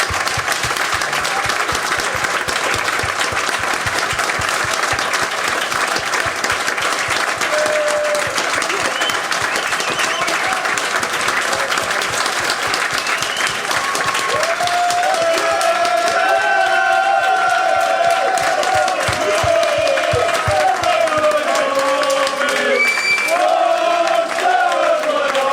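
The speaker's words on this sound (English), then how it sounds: "I think everyone should stand up and applaud this man for what he's done for QPR" A live audience rises in standing applause for Neil Warnock at a QPR podcast event, steady loud clapping and cheering through the whole stretch, with voices and whoops rising in the second half.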